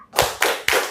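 Hands clapping in a children's clapping rhythm game, three sharp, loud claps in quick, even succession, close by with nothing else around them.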